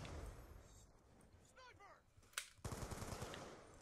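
Rapid automatic fire from the AR-94 assault rifle in Black Ops 2 multiplayer on the Magma map, with bursts of gunfire alongside game effects and someone talking.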